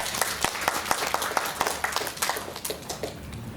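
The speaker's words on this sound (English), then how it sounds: "A huge clap." Lecture audience applauding after the introduction of a talk on lung cancer screening and diagnosis in Malaysia at a medical conference hall; fairly close, moderately loud clapping with scattered distinct claps running steadily throughout.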